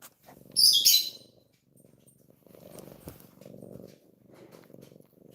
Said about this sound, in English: He's purring so loud.